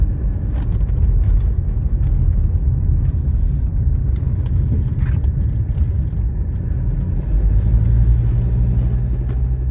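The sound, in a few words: 1984 Mercedes 300D diesel car driving on road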